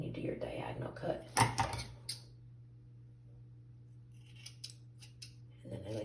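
Scissors make a few quick snips through wet long hair during a diagonal layered cut, with a sharp cluster of cuts early on and then near silence with a low steady hum; a voice is faintly present.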